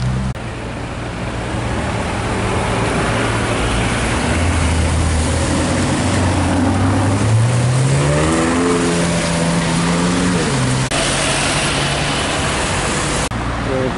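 A Nissan GT-R driving past on a London street, an engine note rising and sweeping upward as it accelerates by, fairly close and loud over steady traffic noise.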